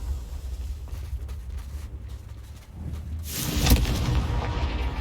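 A Confringo spell explosion blasts rocks apart in Hogwarts Legacy, a rumbling boom that swells loud near the end over a steady low background drone.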